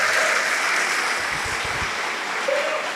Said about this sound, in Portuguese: Vamos dar uma salva de palmas para o nosso Pai que está nos céus.